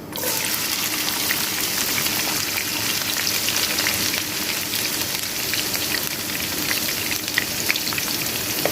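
Chopped onion sizzling in hot oil in a pan, a steady, crackling fry throughout with no voices.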